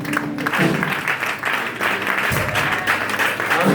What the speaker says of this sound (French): Je voudrais qu'on acclame le Seigneur